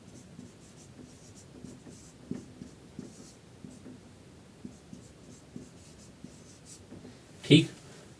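A chemical formula is written out by hand, likely chalk or pen on a board, producing faint, scattered scratching strokes at a steady pace, then a louder tap or knock near the end.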